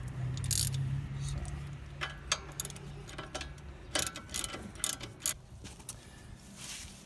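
A ratchet tightens a 22 mm bolt on a Nissan Xterra strut during a leveling kit install, giving a series of faint, uneven clicks and ratcheting bursts close by amid quiet garage ambience.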